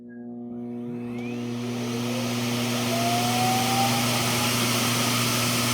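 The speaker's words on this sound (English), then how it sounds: "When the vacuum goes into the auto wash dock, first thing you'll have is a very loud suction." Loud, steady suction roar from a Roomba 505 Combo robot vacuum's auto-wash dock, a broadband whoosh with strong humming tones that builds slightly and holds for several seconds.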